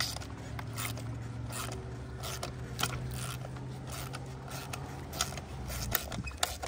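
A seized chain adjuster bolt on a dirt bike swing arm being unscrewed, giving a steady, close, gritty metallic scraping and creaking grind with faint clicks throughout.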